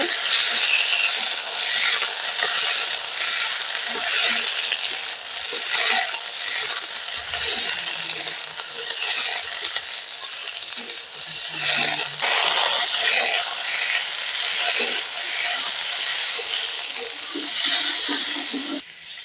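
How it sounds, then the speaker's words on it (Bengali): Grapes for a sweet-sour chutney stirred in a pan, with continuous wet scraping and rattling of a spatula against metal, fairly close, with a few heavier knocks midway and no speech. "নাড়াচাড়া করে নেব একটু"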